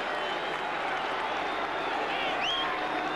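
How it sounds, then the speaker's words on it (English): A stadium crowd roars steadily, urging the New York Giants defense on during a 1980 NFL game against the Philadelphia Eagles. The broad, continuous cheering sounds distant and fills the whole stretch without pause. "And the crowd exhorting the Giant defense to hold"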